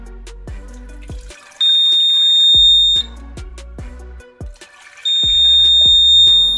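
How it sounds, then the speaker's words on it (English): A homemade water level alarm sounds twice, each time a loud steady high electronic beep lasting about a second and a half, with rattling and clicking handling noises between the beeps. "It's automatic liquid alarm."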